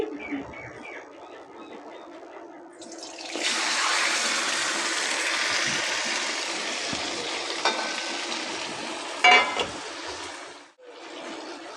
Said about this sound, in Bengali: এবার পরিমাণ মতো জল দিয়ে দিচ্ছি, কারণ মাছটা তো সিদ্ধ হবে